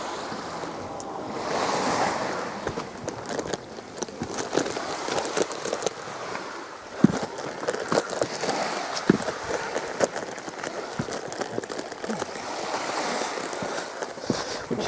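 Sea waves wash in continuously at Babbacombe Bay at high tide, a steady broadband rush of surf with occasional louder breaking swells, close and unbroken by any talk.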